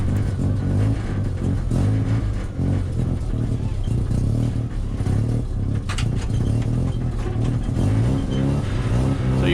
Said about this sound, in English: So you might notice that the car's a bit squeaky and rumbly and rattly and squeaky.